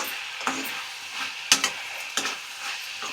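A spoon scrapes and stirs paneer curry in a hot pan in a few short strokes, with a soft sizzle beneath it. The stirring is close and fairly quiet, and no one speaks.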